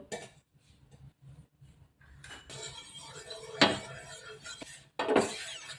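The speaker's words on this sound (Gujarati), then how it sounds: "હવે આપણે એમાં થોડુંક તેલ નાખી અને મિક્સ કરી લેશું" Spoon clinking and scraping against a bowl while oil is mixed into besan (gram flour) batter for thin pudla, with quiet stretches broken by a few louder, close metallic strokes.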